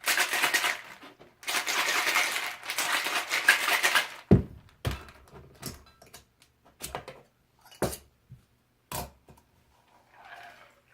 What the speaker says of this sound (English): I'll cap this off. Give it a bit of a shake.